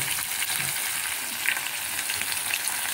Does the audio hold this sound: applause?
no